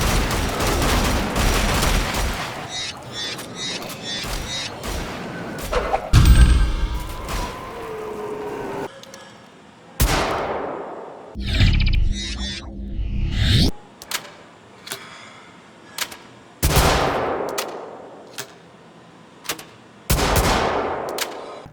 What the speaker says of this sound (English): So it's still a very good semi-auto shotgun, but a step backwards from the previous incarnation.